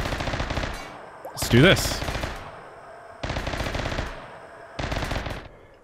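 Sustained bursts of automatic gunfire in the modded video game RimWorld: rapid, dense machine-gun fire in three long volleys with short gaps, loud and close, while someone speaks briefly over it.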